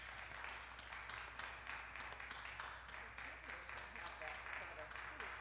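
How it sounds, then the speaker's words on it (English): Quiet, distant applause from a church congregation honoring a member, rhythmic clapping at fairly even pace with voices murmuring underneath. "I want everybody to give another round of applause to Doris"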